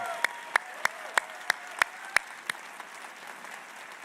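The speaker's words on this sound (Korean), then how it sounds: "우리 부활하신 예수님께 박수 올리겠습니다" Sparse claps ring out roughly every third of a second, about eight sharp hand claps at an Easter church service, fading into a quiet, faint patter of room noise.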